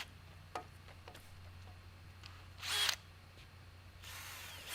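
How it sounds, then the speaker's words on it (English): A drill spins a 1-inch Forstner bit into a wooden patio Dutch door for the latch, with short whirring bursts after a few faint ticks, and a longer run starting near the end. "then drill a 1-inch hole that goes in"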